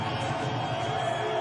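A large crowd roars at a Legends Football League game late in the fourth quarter, a dense sustained wash of noise with no distinct voices standing out.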